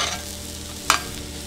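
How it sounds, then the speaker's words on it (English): Butter melts in a pan of cauliflower fried rice with bison, giving a steady close sizzle and one brief sharp clink of a utensil partway through. "You just turn it down low while the butter melts."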